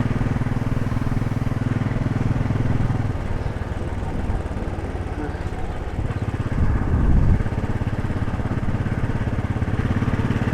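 Royal Enfield Desert Storm motorcycle engine running steadily on a country lane at around 30 mph, a continuous low thumping drone that swells briefly midway, with no talking.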